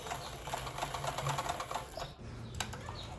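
A sewing machine runs steadily, its rapid mechanical stitching buzzing close by as it sews a shoe fastener, with a brief pause near the end before it resumes.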